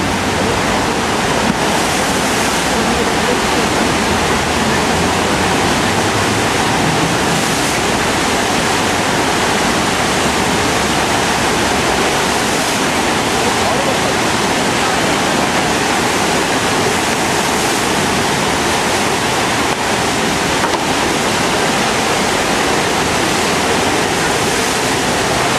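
A river rushing beneath a main street in Munich, a loud, dense, continuous roar of churning water filling the whole scene, steady and close with no pauses.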